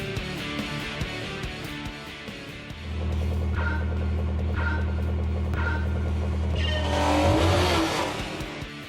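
A racing car in Gran Turismo 4 is driven through a series of turns. The engine hums low, then surges into a loud sustained rev with rising pitch and brief tyre squeal near the end, with no voices.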